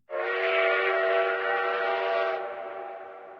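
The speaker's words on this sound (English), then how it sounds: "The train should be here soon." A steam-style train whistle from a video game blows one long, loud, sustained harmonic blast that holds steady before tapering off, with no talk over it.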